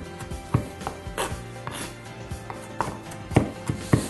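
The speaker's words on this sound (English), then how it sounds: "just rock your knife back and forth across it a few times" A kitchen knife rocking back and forth through a small bunch of fresh herbs on a cutting board, producing several soft, uneven chopping taps close by with no talking.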